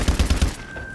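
Machine gun fire in the video game Call of Duty: Advanced Warfare, a quick loud burst of about four rapid shots followed by a short ringing tail, with no talking.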